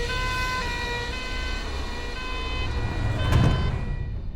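An ambulance siren wails with a steady tonal pitch over traffic rumble, held at moderate volume, with a brief louder burst of noise near the end.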